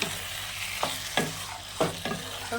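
Taro leaves with chickpeas frying in a pan, with four or five distinct scraping stir strokes over a steady, close sizzle and no talking.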